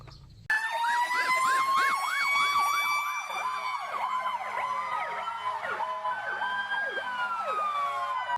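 A toy fire truck with a dog figure plays a rising and falling electronic siren wail that repeats steadily, close and fairly loud, with no one talking.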